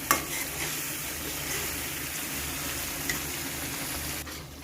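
Spice paste frying in a pan for a fish dish, a steady close sizzle with light stirring scrapes, loud and even until it drops off near the end, with no talking.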